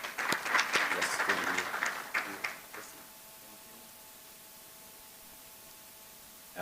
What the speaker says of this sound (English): Let's give a round of applause to the pastor as he comes to the stage